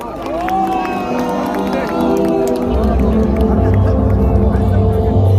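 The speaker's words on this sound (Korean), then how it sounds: "큰 격려와 지지에 여러분 다시 한번 큰 박수를 보내주십시오" Crowd at an outdoor political campaign launch rally cheering and making noise, loud and continuous, with voices shouting and a deep rumble entering midway.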